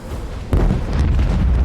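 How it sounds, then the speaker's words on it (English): Macro cannons on a starship in the video game Warhammer 40k: Rogue Trader fire with a sudden heavy boom, followed by a rolling, rumbling barrage that keeps going. "Macro cannons, open fire."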